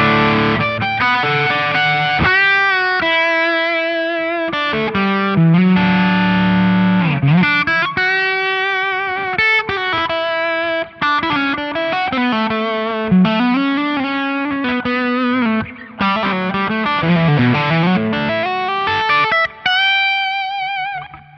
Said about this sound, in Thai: มาลองฟังเสียงแตกกันบ้างครับ